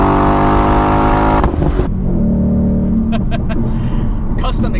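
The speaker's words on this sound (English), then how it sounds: "Now that beautiful 5-liter V8" A Ford Mustang GT S550 with a 5-liter V8 and MagnaFlow mufflers on an H-pipe exhaust, loud and close, revs hard then drops to a rumbling idle with a few sharp blips.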